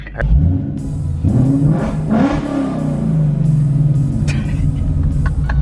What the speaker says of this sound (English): Maybe the rev wasn't loud enough.